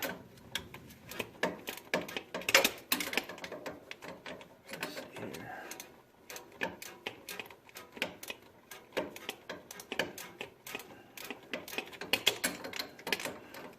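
A wrench ratchets a bolt on the actuator of a 2017 Chevrolet Colorado ZR2 4WD, giving quick, uneven bursts of close metallic clicking with short pauses between them.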